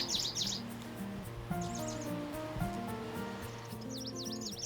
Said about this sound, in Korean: 그러고 보니 곳곳에서 들리는 새소리.